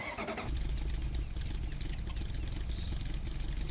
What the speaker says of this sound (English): I'll start it up.